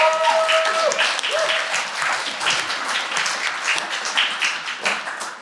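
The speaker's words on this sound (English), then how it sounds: "Can we get a round of applause?" Warm, sustained applause fills a 30th anniversary celebration for a welcome house, many hands clapping densely and close, with a few voices and tonal calls rising briefly over the start.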